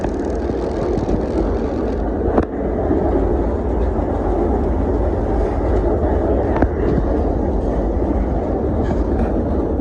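A small museum train rumbles steadily across a trestle over a lake with a constant low roar and a few sharp clanks, and faint voices sit beneath the noise.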